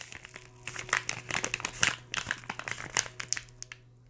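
Paper crinkles and rustles up close in a quick, irregular series of crisp bursts as an envelope is handled and torn open, with no talking.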